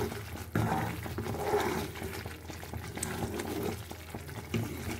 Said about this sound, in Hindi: ये भुनने लग रहा है पूरा